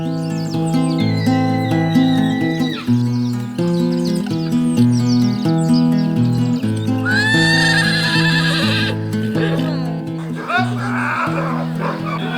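A horse whinnies over a bed of steady orchestral music and narration, with faint hoof clip-clops blending into the mix, recorded among riders from Suárez, Buenos Aires.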